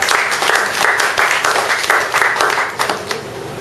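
An audience at a talk about cancer breaks into sustained applause, many hands clapping together in a bright, steady roar that ebbs slightly in waves over a few seconds.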